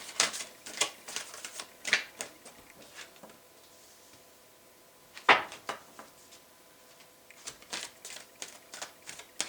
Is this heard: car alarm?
no